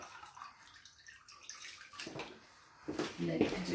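Water draining and gurgling during cleaning of a wooden kitchen floor that takes heavy foot traffic, a soft, fairly quiet wash of water that grows louder near the end, with a voice speaking over it.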